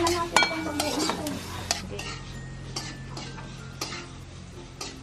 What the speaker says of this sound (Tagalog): Sinasala ni nanay yung bagoong.